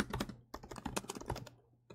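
Rapid typing on a computer keyboard while coding a LeetCode solution, dense irregular runs of close, crisp key clicks that pause briefly twice, with no talking.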